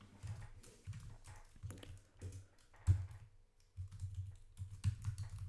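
Rapid, uneven clicking of a computer keyboard being typed on, fairly quiet and close, with bursts and brief pauses throughout and no talking.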